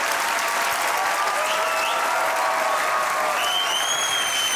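A studio audience at a comedy talk show claps in a dense, loud, continuous burst of applause, with a few whistles rising over it.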